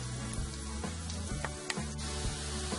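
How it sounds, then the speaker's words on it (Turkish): Steady sizzling of cauliflower patties frying in hot oil, close and continuous, with occasional small pops and crackles. "Altı iyice kızardıktan sonra öbür tarafını çevirip de kızartmaya devam ediyoruz."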